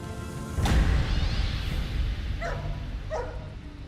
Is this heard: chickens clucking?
no